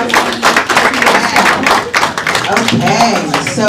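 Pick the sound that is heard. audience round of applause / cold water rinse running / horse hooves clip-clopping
audience round of applause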